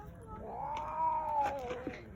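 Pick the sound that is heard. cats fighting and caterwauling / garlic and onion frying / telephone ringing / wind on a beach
cats fighting and caterwauling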